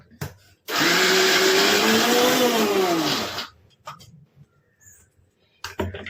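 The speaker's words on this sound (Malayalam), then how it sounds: "ഒന്ന് നന്നായിട്ട് ഇളക്കി എല്ലാം മിക്സ് ചെയ്ത് ഒന്ന് അടിച്ചെടുക്കാം" A mixer grinder blends coconut chutney for Kerala-style pazhankanji in one loud, steady whir of about three seconds with a rising and falling motor pitch, then cuts off and leaves faint clattering.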